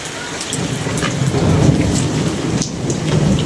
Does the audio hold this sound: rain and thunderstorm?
yes